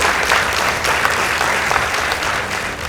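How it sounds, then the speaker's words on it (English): A room full of students at a high school debate between Friends School Tigoi and Kakamega claps in a dense, even burst of applause, continuous and fairly loud from start to finish. "Let's give them a round of applause"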